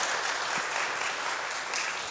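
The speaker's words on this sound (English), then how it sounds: "Let's give Jeff a round of applause" An audience at an evening hymn event claps for Jeff, with a dense, steady burst of applause throughout.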